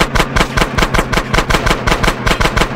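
Rapid automatic gunfire rattles in the video game Grand Theft Auto San Andreas, loud evenly spaced shots in a steady driving burst with no pause.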